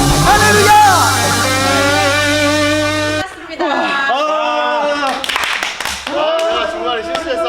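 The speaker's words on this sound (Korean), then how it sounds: "하나님 앞에 감사의 박수를 드립니다" Clapping from a congregation at a children's Sunday church service, mixed with loud music and singing, with sharper claps standing out more toward the end.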